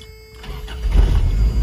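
A 1989 Toyota pickup with the 22RE engine cranks and fires, a short whir of the starter swelling into a loud low rumble as the engine catches and runs.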